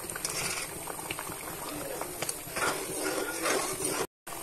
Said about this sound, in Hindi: इसमें उबाल आ रहा है